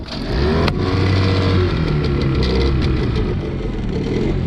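A small outboard boat motor catches on a freezing day and runs up to a steady, loud buzzing drone nearby, holding its pitch with a slight waver.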